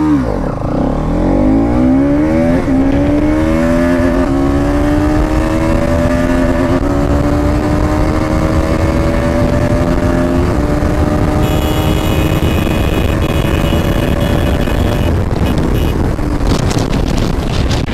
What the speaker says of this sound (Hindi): क्या भाग रही है बाइक